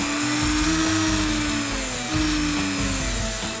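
A high-speed rotary sanding drum pressed into foam while making a prop pistol, with a loud, steady motor whine that dips briefly as it bites in, close and alone.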